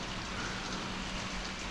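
Rain falling in Sarande, Albania, a soft steady hiss of drops on surfaces, faint and even throughout the brief stretch with no voices.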